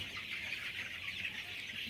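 A chicken from a flock sick with E. coli or coli enteritis clucking softly and continuously, faint and close, with no voices.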